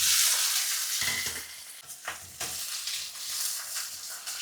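Small onions hiss and crackle in hot oil with mustard seeds, fenugreek, cumin, dried red chillies and curry leaves for a sweet potato kuzhambu, a bright close sizzle with a few stirring scrapes and no talk.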